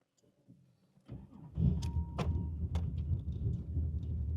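A 1985 Chevrolet Corvette engine starts up indoors in a showroom. After a quiet moment the starter cranks, the motor catches and settles into a steady, throaty idle, with a few sharp clicks and whines on top.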